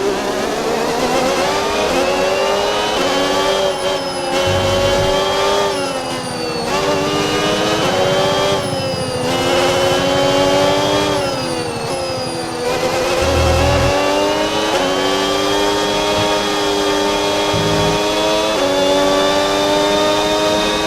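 An F1 race car engine in a video game at the Japanese Grand Prix, accelerating on hybrid boost: a loud, continuous high-pitched whine that climbs through repeated gear shifts, close and with no voices.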